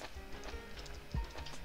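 Minecraft horses clip-clopping in the game, a few quick, light hoof taps close by, low in volume, with no talking over them.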